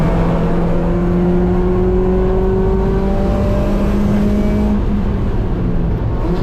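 A race car accelerating on the track at GingerMan, its engine a loud, steady in-car drone whose tone slowly climbs through the gear, continuous with no voices.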